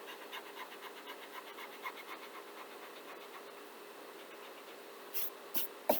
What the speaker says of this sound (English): Where the lines overlap, I want to erase it out.